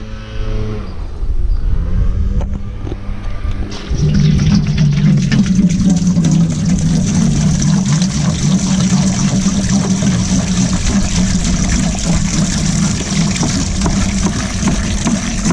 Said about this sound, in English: Let's start with 6 gallons of water, because 1 gallon is going to evaporate for a 5-gallon batch.